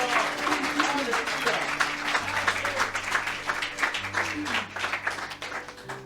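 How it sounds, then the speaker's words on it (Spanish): A church congregation claps loudly together during a service, a dense and steady wash of applause with music sustained underneath and voices mixed in. "Denle un fuerte aplauso al Señor."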